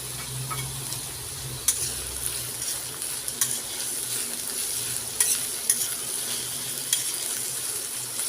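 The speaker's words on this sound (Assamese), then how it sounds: "পিঁয়াজখিনি খুব ভালদৰে ৰঙচুৱাকৈ ভাজি ল'ম মই" Sliced onions and a dried red chili fry in oil in a pan for an Assamese mutton curry, giving a steady close sizzle with occasional light clicks of stirring.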